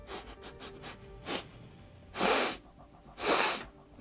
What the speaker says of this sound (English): let's come in for a sniff test.